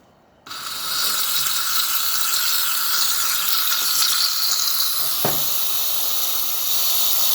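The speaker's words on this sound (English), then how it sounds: "got quite a strong steam coming out" The steam wand of a single-boiler La Pavoni Napolitana espresso machine opens with a sudden strong, steady hiss that holds loud and continuous, with a brief dip partway through.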